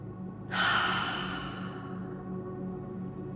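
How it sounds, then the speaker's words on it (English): A single slow deep breath during a guided meditation, a long airy exhale beginning after a short quiet moment, close and gradually fading into a soft hum of room tone. "Let's just take a nice deep breath."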